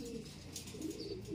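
Pet pigeons coo softly in a low, continuous murmur, quiet and close with no talking.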